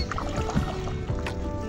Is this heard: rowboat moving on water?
yes